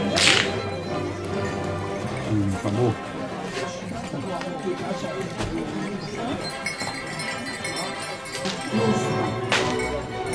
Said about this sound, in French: Le fouet, manié avec dextérité, claque à plus de 80 km/h.